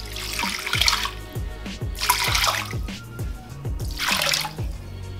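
Water pours into a pot of rinsed lentils and chana dal in three separate bursts, each a gurgling, splashing rush close by, with no talking.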